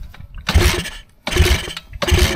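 A Kayo pit bike engine is cranked at full throttle during a compression test. Three loud, close bursts of churning engine turnover come in a row, separated by short pauses.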